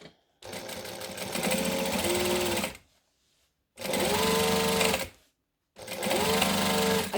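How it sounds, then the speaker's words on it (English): A sewing machine back stitches a clutch bag, running in three loud close bursts of steady motor whir separated by short pauses, with no talking. "I'm going to back stitch"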